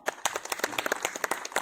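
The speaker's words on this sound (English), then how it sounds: "I think you can clap." A school audience at an Independence Day celebration breaks into a short, brisk round of clapping, many hands patting in quick overlapping beats.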